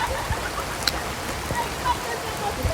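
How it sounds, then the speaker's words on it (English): Rain falls steadily outdoors as a constant dense hiss of drops on surfaces, with a few sharper drip taps scattered through it. "It's raining."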